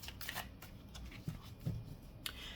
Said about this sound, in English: I'm just going to do one more shuffle and give a cut.